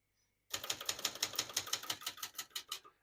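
Typing on a 1965 Brother Webster portable typewriter begins after a short silence: a rapid, even run of sharp mechanical keystrikes, close and crisp, continuing alone to the end.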